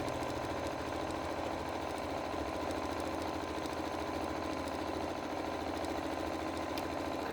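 Sewing machine stitching seams across a colorful quilted fabric pouch with neutral thread, a steady, continuous close whir at constant speed with no pauses and no talking.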